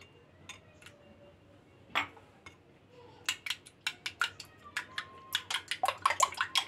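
Eggs and milk whisked in a bowl for French toast: after a few scattered clinks, a quick run of sharp, rhythmic utensil taps against the bowl builds and speeds up toward the end.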